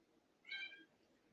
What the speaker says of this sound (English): You may hear some cat sounds because we're going to feed the cats now.